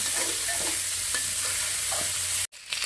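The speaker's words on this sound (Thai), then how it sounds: "ตอนนี้ผัด หมูสามชั้นให้น้ำมันเขาออกนิดๆนะคะ" Pork belly stir-fries in a hot pan with its fat rendering out. A loud, continuous close sizzle carries a few soft scraping stirs and cuts out briefly just before the end.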